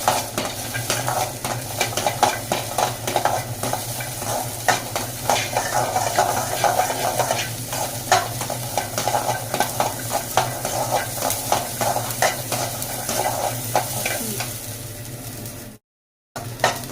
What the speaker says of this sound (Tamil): அங்கே இப்போ வெங்காயமும் பூண்டு போட்டு ஒரு வதக்கிக்கலாம்